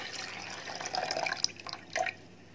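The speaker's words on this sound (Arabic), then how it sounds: "وحط الميه." Water poured from a tap or container while making koshari, a soft splashing and dripping trickle lasting a few seconds at close range, with brief louder bursts near the end and no talking.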